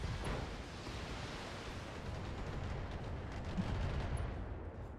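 A ghost cannon fires in the BattleTech mech combat video game, a dull rumbling boom of noisy blasts rolling over several seconds, fairly faint and muffled, with no talk.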